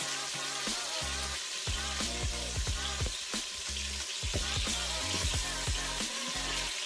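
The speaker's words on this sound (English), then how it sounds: "So I'm going to go ahead and sear." Oxtails sear in a Ninja Foodi, a steady loud sizzle and crackle of frying meat running throughout, with sharp scrapes and clatters as pieces are turned.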